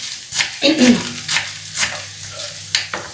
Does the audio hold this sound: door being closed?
no